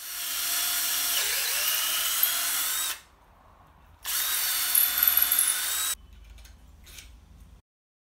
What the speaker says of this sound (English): I could drill the holes through the forks for the bolts.